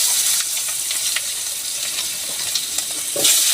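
Potatoes fry in hot oil with a loud, dense, continuous sizzle, close up and steady throughout, with no voices.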